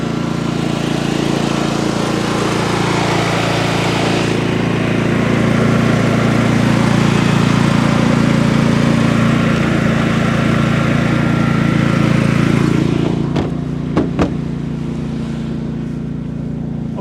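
A Champion 8750 tri-fuel generator runs inside an enclosure outdoors in freezing winter weather, a loud, steady engine drone that swells slightly midway, with a couple of brief knocks near the end.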